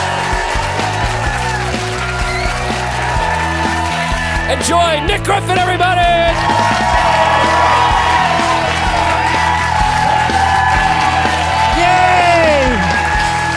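Comedy club audience at a stand-up special whooping, yelling and clapping loudly and continuously while a host's amplified voice announces over the crowd.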